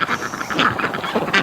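A large male breeding duck quacks in short repeated calls, fairly close, with a few honking notes over a busy background of other waterfowl.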